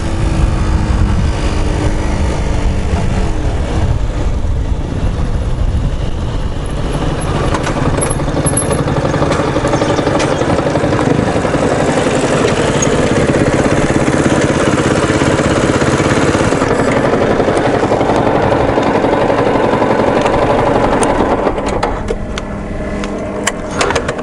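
A motorcycle engine runs continuously nearby, a rough, throaty rumble that holds steady throughout with slight shifts in revs.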